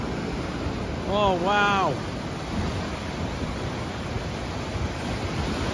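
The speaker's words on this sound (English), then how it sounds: "Just look at them waves." Ocean waves break and wash steadily along the seaside at Swanage, a constant broad roar of surf with some wind, while a man briefly exclaims in amazement.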